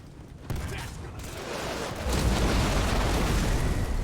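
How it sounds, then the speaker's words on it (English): Heavy rumbling impact and sustained explosive roar as an ODST drop pod slams down onto an army in a real-time strategy video game, loud and continuous with battle noise building after the landing. "Another ODST drop comes down onto the army."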